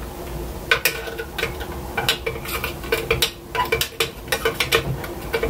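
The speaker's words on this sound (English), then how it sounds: "Now take the spoon and stir it." Metal spoon stirring freshly poured coffee grounds and boiling water inside a glass IKEA French press, producing quick irregular clinks and taps against the glass over a soft swishing.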